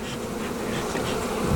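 Honey bees buzzing around an opened hive during an inspection, a dense, continuous swarm drone that sounds close and steady without any talk.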